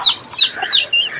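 Quails call in short, high, chirping bursts, about four quick notes in a row, close and loud with no other sounds.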